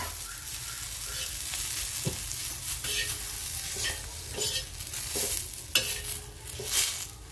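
Crushed peanuts being stirred into stuffed green chillies frying in a pan, a steady sizzle broken by scraping spoon strokes against the pan, close and continuous with no talking.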